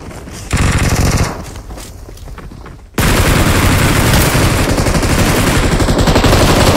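Rapid automatic gunfire sprays in a shooter video game, loud and close: a burst, a brief lull of scattered shots, then a sustained dense stream of fire with no talk.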